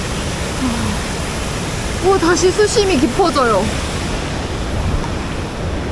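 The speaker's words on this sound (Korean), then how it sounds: "여기는 이렇게 폭포가 있고" A waterfall in a deep valley stream gives a steady, broad rushing roar through the whole stretch, with a person speaking excitedly over it midway.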